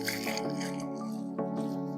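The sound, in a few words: watering soil in a tree planting hole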